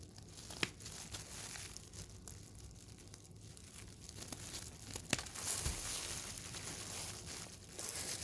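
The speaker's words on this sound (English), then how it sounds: "I use some little scissors, just pry the packet open" Small scissors cutting into and prying open a reagent powder packet, giving close, quiet crinkling and tearing of the packet material with a couple of sharp clicks along the way, no speech.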